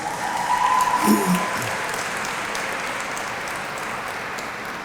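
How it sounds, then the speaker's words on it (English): Audience at a Hispanic Heritage Month opening ceremony applauding sponsors, a dense steady clapping that carries on throughout, moderately loud and diffuse across the room. "Let's give our sponsors a round of applause."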